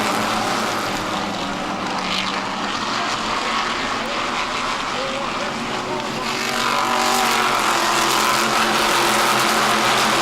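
A race car engine drones loudly on the track, a continuous roaring whine that swells louder toward the end, with a voice talking over it.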